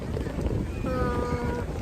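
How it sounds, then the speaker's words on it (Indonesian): Strong, stormy wind blows outdoors at PIK 2, roaring and buffeting the microphone as a dense, continuous rush that never lets up. "angin kencang, badai"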